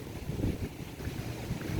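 Steady wind gusts across an open lake at Bueng Kaen Nakhon under light rain, a continuous rushing roar with water noise and no voices.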